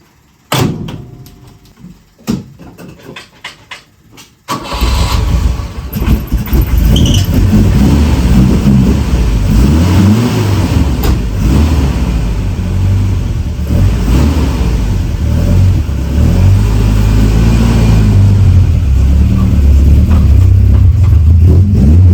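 A Volvo car engine turns over and catches, then settles into a loud, steady run close by with some revving, after a few seconds of thuds and handling noise.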